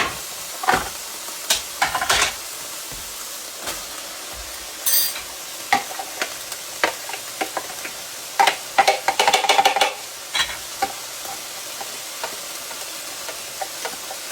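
Sweet onion cooking in a pot with meat, a soft, low sizzle running under sharp scrapes and clinks of a utensil stirring against the pot, with a busy flurry of stirring near the end.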